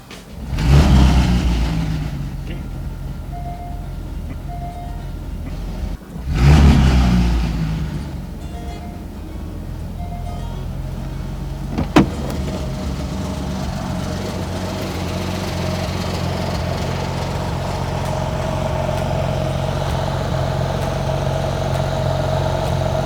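A Porsche GT3 parts car with 17,000 miles revs twice in sharp, loud bursts, then settles into a steady idle, with one brief blip partway through and the engine humming evenly to the end.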